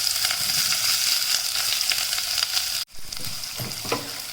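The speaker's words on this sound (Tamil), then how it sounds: "இப்போ வெங்காயம் கொஞ்சம் வதங்கிடுச்சு" Onions sizzle and crackle steadily in a hot pan, with a brief stir that interrupts the frying before the sizzle resumes.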